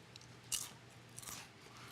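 Homemade sweet potato chips, crisped in a microwave chip maker, crunch in a couple of sharp bites close to the mic, with faint chewing in between and no talking.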